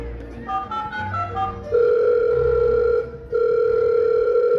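A telephone being dialed: a quick run of keypad tones in changing pitches, followed by a long steady ringback tone, a brief gap, then the tone again, clear and close.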